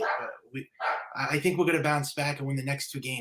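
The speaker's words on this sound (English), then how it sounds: "Sorry for my dog barking" A pet dog barks in short bursts at home while someone talks about baseball over it, the yaps landing close by and partly masked by his steady speech.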